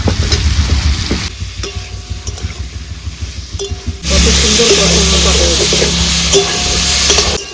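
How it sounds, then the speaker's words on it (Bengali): Coriander powder and green chillies are sautéed with a little water for a thin fish curry. A loud, close sizzle with stirring turns into a fierce, steady hiss halfway through, and the hiss continues to the end. "দিয়ে দেবো ধনিয়া গুঁড়ো, সামান্য একটু জল দিয়ে কষিয়ে নিই। ফেলে রাখা কাঁচা লঙ্কাগুলোও দিয়ে দিচ্ছি।"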